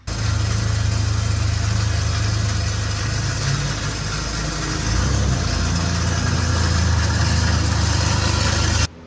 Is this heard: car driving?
yes